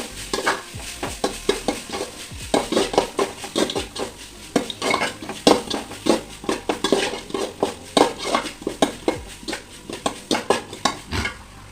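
Garlic sautéing in a pan for a chicken curry, busy clattering stirs and scraping spoon strokes against metal over a light sizzle, close and irregular, with no speech.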